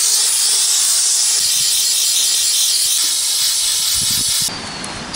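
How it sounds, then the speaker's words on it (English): A Shark steam cleaner blasts steam onto creased sneakers for restoration, a loud, close, continuous hiss lasting several seconds before cutting off abruptly, followed by quieter brushing sounds. "Shark steam cleaner."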